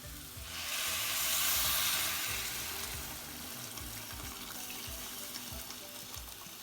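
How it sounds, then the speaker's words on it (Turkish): Hot water pours into a pot of lentil soup with flour cooking in it: a strong rushing splash that swells over the first couple of seconds, then settles into a softer steady bubbling hiss. "Evet şu aşamada sıcak suyumuzu dökeceğiz."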